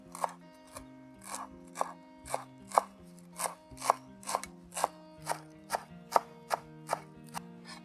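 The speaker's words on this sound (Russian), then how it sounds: "Мелко режем." A knife finely chops fresh cilantro, parsley and dill on a board in a steady, even rhythm of about two crisp cuts per second, close and alone.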